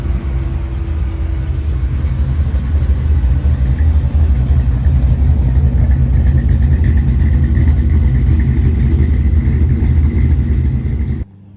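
A 1969 Chevy C10 resto-mod with a 495-horsepower LS3 V8 and Sniper EFI idles loudly and steadily close by, a deep, even rumble that runs alone and then cuts off abruptly at the end.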